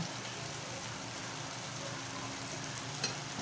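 Tomato and vegetable sauce with fish stirred in a pot, a steady soft broadband sizzle and scraping throughout with a brief sharper clink near the end, no talk.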